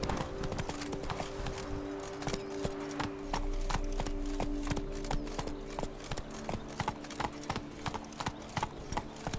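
Rapid, rhythmic clatter of a galloping horse's hooves in The Witcher 3: Wild Hunt, steady clip-clop beats running throughout at close range over a faint low background.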